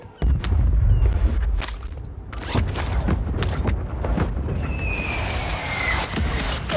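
Mortar rounds boom repeatedly in a duo-versus-quads shooter match, heavy low thuds landing close and loud one after another amid continuous battlefield rumble and scattered gunfire.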